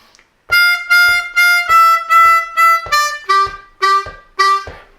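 A C harmonica plays a short lick from a song, about nine punchy, evenly spaced notes, bright and reedy, with the pitch shifting toward the end.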